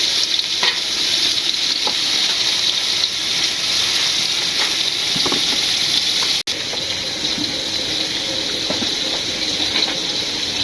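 Food sizzles steadily in a hot pan in a village kitchen while a utensil stirs and scrapes through it, loud and close, with a brief dropout midway and no talk.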